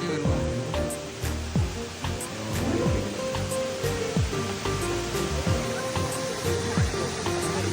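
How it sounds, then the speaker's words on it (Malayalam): A waterfall pours down from a height in sunny Tamil Nadu, foaming as it falls, a steady close rush of water with no talk. "അത് എന്തോ ഹൈറ്റിൽ നിന്ന് വരുന്നില്ലേ വെള്ളം"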